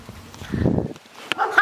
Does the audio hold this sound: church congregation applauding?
no